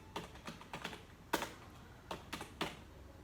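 Computer keyboard keys tapped while writing code in an editor: a handful of separate clicky keystrokes, close and fairly quiet, spaced irregularly with no voices.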